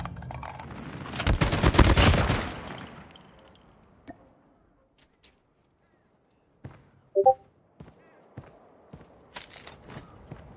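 A loud burst of machine gun fire in Call of Duty Mobile gameplay, followed by near silence and then scattered clicks, footsteps and small impacts.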